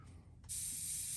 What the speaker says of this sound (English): you want to spray this on low pressure.